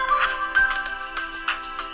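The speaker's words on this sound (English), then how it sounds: "My cell phone is ringing." A cell phone ringtone plays a bright, repeating electronic melody, clear and close with no voices.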